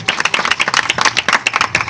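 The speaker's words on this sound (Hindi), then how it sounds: "यीशु के जलाल के लिए जोरदार ताली देना" A church congregation clapping loudly for about two seconds, a dense, fast run of overlapping hand claps close by.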